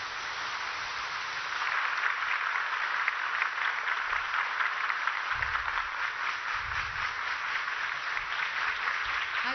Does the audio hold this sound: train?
no